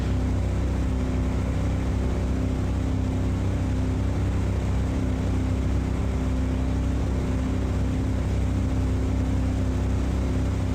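A steady, droning engine hum resembling a German diesel from a vehicle in a rescue video game, constant and unbroken with a low tonal rumble and no voices.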